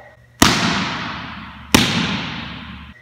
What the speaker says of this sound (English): you slap the ball to try to create a higher pitched slap sound on the ball